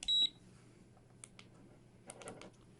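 A timer is started for a Sofirn SP36 Pro flashlight test and gives one short, clear, high electronic beep. A few faint scattered clicks follow in a quiet room.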